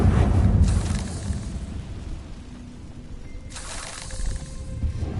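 A fiery blast from the Confringo spell in the Hogwarts Legacy video game bursts loudly at the start, then rumbles and crackles down, with a second burst flaring near the end.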